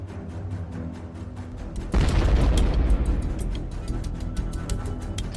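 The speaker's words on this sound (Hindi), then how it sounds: "छोटा ग्रेनेड छोटा धमाका करता है।" A small drone-dropped shuttlecock grenade explodes on a T-72 tank in a war zone, a single sharp blast about two seconds in after faint rumbling, followed by crackling debris and a fading rumble, no voices.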